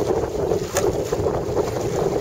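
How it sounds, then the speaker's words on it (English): Wind rushing and buffeting the microphone aboard a sailboat on a broad reach with a reefed sail in about 5 knots, a constant close roar with water noise underneath. "Blowing pretty good out here today. About 5 knots."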